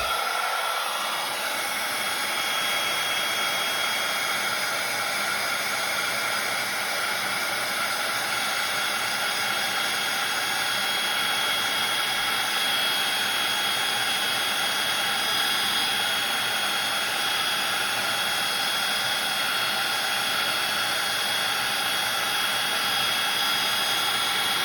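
A heat tool blows hot air to melt embossing powder in a craft project, making a loud, continuous, even whoosh that runs without a break from start to finish.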